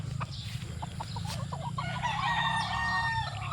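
A young, newly corded late-born stag rooster crows close by, its call ringing over a steady background of farm birds clucking and other fowl noise.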